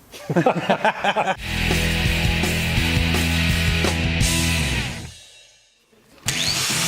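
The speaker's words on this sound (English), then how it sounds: "Using his favourite weapon, the angle grinder, Neil hacks off the excess German steel that" An angle grinder cuts away excess steel from a German BMW motorcycle in a workshop, a loud sustained grinding whine after a brief burst of laughter, fading out and then returning abruptly at the end.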